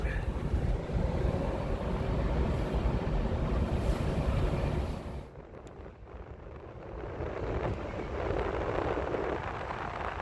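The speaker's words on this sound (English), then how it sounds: "Listen to that wind." Strong wind roars and buffets a microphone at the Yomiuriland amusement park, easing briefly midway before gusting again, loud and continuous.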